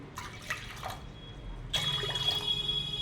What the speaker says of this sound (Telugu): అదే కప్పుతోటి మూడు కప్పుల వాటర్ పోసుకోవాలి